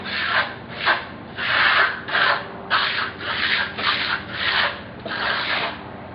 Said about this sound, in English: Using just the edge of the trowel.